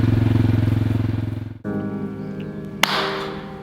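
A four-wheeler ATV engine idles with a steady throbbing pulse close by, then the engine note drops away and a quieter mechanical hum continues with one sharp knock.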